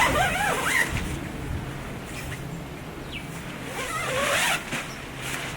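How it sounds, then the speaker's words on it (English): A zipper on a Coleman Flatwoods II tent door is pulled closed from inside in two quick, close, raspy zips separated by a short pause. "We're going to zip it up from the inside."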